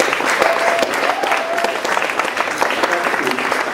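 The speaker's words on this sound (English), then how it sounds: "I think some applause is due." Audience applause at a graduation ceremony for the ENTS team, steady dense clapping from a large hall crowd throughout, fairly loud and sustained.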